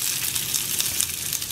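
Chili, onion and curry leaves frying in a pan make a loud, steady hiss and crackle of hot oil throughout, close up and with no talking.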